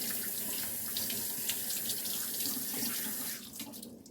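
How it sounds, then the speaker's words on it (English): Reusable Keurig coffee cups being washed under a running kitchen tap, a steady close splashing stream that cuts off near the end, leaving faint drips. "little reusable Keurig cups I have to wash"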